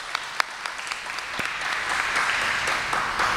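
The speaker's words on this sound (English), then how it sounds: "So please give Dan a round of applause" Townhall audience on education choice in Houston applauding, a sustained wash of many hands clapping that builds and holds steady, with a few sharper isolated claps standing out early on.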